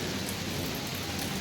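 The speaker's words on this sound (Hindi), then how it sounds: "इस वक्त बारिश शुरू हो गई है और बादल भी काफ़ी गरज रहे थे" Rain falls steadily in a dense, even hiss with a low rumbling undertone of thunder, close and continuous throughout with no voices.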